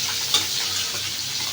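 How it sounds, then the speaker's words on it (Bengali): Potatoes and radish fry in a pan with a steady, close sizzle and light crackle, plus a brief sharp tick early on, with no voices. "আলুগুলো দিয়ে মুলোগুলো দিয়ে ভাজা করে নিচ্ছি"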